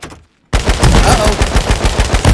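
In H1Z1 King of the Kill, a sudden burst of loud, close, rapid automatic gunfire breaks in after a short silence and keeps going in a fast rattling stream.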